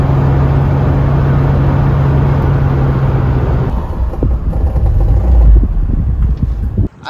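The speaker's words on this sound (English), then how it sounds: "There's a lot of wind noise." A Honda S2000 roadster is driving, and loud wind rushes through the cabin along with road and engine drone. A steady tone fades midway, and quieter rumbling and knocks follow.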